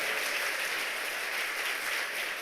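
A church congregation at an evening revival service breaks into dense, sustained applause, loud and even throughout with no pause.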